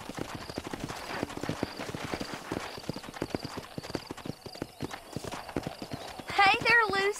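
Horse hooves clip-clop in a steady walking rhythm throughout a Red Dead Redemption game scene, close and moderately loud, while people talk over them and a short whinny rises near the end.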